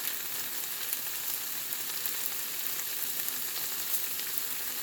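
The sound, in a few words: mushrooms, veal and garlic frying in a pan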